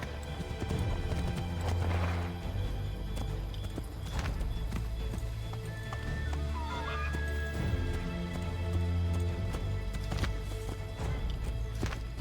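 Horse hooves clip-clopping at a steady galloping rhythm in the Assassin's Creed 3 video game, with snorts and a whinny over a continuous ambient background.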